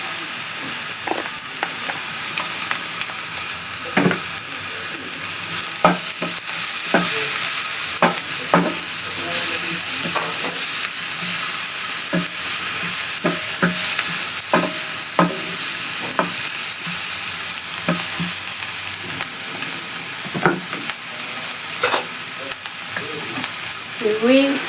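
Grated carrots sizzle in a hot pan for chips mayai, a constant close frying hiss broken by frequent scraping and clacking stirs of a utensil against the pan, no voices.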